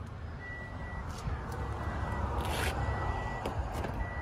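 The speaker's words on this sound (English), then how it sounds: "It's beeping because I have the door open, letting you know you need to shut the door." A 2017 Toyota Sienna SE minivan sounds its door-open warning, a series of thin, evenly spaced beeps repeating over low background rumble while the door stands open.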